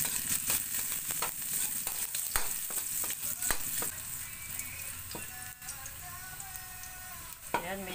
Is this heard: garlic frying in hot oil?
yes